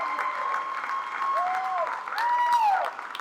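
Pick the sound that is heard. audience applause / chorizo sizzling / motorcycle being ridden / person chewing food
audience applause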